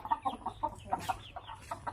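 A chicken clucks in short repeated bursts at a quick, uneven rhythm, fairly close and moderately quiet against faint background noise.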